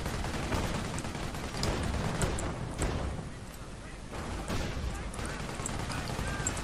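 A 17-pounder anti-tank gun firing in the video game Company of Heroes, its heavy booming reports mixed into a dense, continuous battle din of artillery and gunfire.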